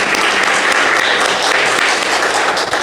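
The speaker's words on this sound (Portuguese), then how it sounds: "mais uma linda salva de palmas." A church congregation gives a warm round of applause during a worship service, loud and dense clapping that runs steadily throughout with no speech over it.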